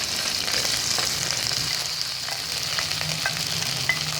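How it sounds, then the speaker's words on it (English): Chopped okra (bhindi) frying in heated oil makes a steady close sizzle with small crackles and pops scattered through it. "To the heated oil, I'm adding the bhendis"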